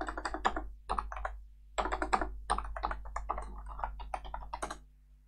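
A system password typed on a computer keyboard during an Ubuntu server setup, close bursts of quick crisp keystrokes separated by short pauses.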